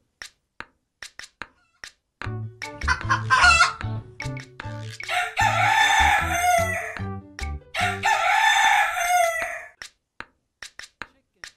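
Against a sparse ticking beat in a children's farm animal song, a rooster crows loudly twice in long, strained calls, with clucking and musical backing between them.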